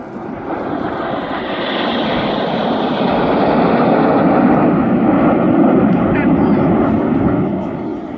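Red Arrows display jets of the RAF flying past at an airshow, a broad roaring engine rush that swells and holds steady, loud, with a commentator speaking over it.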